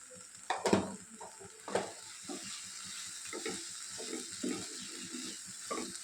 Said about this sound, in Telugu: ధనియాల పొడి వేసి కలుపుకున్న తర్వాత